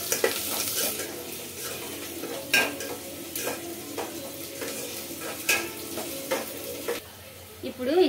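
Onions frying in a clay pot, stirred with a utensil that scrapes and knocks against the pot every second or so over a steady low sizzle, close and moderately loud, with no talking.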